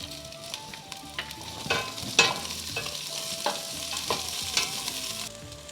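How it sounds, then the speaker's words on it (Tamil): Green chillies, onion and garlic sizzle in hot coconut oil, with a steady crackling fry broken by repeated scrapes and clinks of a spoon stirring in the pan, close and continuous. "பச்சை மிளகா, வெங்காயம், பூண்டு இது மூணுத்தையும் வதக்கிக்கலாம்"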